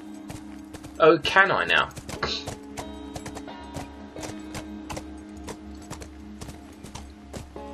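Horse hooves clip-clop in The Last of Us video game, a brief burst of a horse sound followed by steady rhythmic hoof steps over a low mechanical hum, with someone talking briefly.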